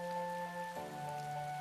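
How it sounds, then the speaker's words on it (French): Steady rain in the video game Tales of Vesperia, a soft continuous patter under sustained music tones, even and unbroken. "Il pleut."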